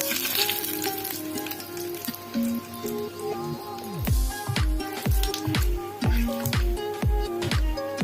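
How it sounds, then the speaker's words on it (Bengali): Dried red chillies, whole cumin seeds and two bay leaves crackle and spit in hot leftover frying oil, a loud steady sizzle broken by sharp popping bursts and sputters that quicken in the second half. "বেঁচে যাওয়া ওই তেলটার মধ্যে আমি এবার ফোড়ন দেব শুকনো লঙ্কা, গোটা জিরে আর 2টো তেজপাতা।"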